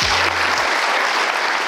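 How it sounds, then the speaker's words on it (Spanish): An audience claps at a motivational talk, a dense burst of applause lasting under two seconds, loud and close; a low rumbling thump fades in the opening half second. "se merecen un aplauso"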